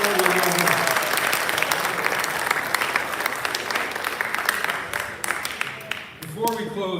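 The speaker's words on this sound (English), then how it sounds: "Round of applause for everyone." Audience applause at a school district senior awards ceremony, a long dense run of many hands clapping that fades toward the end, where a voice begins speaking.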